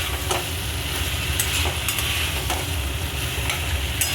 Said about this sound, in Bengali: এবার আমি ভেজে রাখা আলু আর পটলগুলো দিয়ে দেবো দিয়ে আরও বেশ খানিক্ষণ আমি